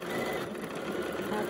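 A sewing machine runs continuously, stitching a pleated fabric face mask, a fast, even mechanical buzz held close for the whole moment.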